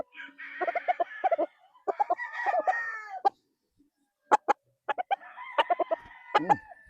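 Roundhead cross gamefowl roosters, crossed with kelso, give repeated close clucks and several short crows in quick bursts, loud and clear with brief pauses between, no talk over them.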